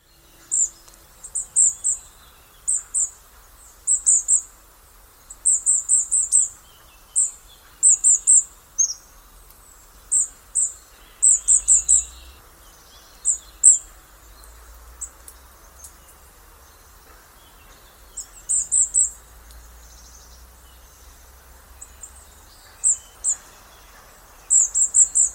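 Small birds in Hungary give repeated high, thin bursts of chirping notes, each phrase short and clustered, recurring every second or two over a quiet, faintly insect-filled outdoor background.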